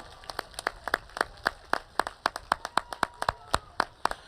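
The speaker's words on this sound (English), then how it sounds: "Turn to your parents and clap for them." Graduating high school students clap for their parents at a ceremony, a quick series of distinct, evenly spaced hand claps ringing out clearly with little else around them.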